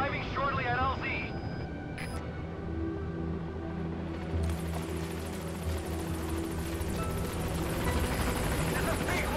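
Helicopter in Metal Gear Solid V: The Phantom Pain arriving at a landing zone, a steady low rotor drone and engine hum that swells louder after a few seconds, with game radio voices and effects over it.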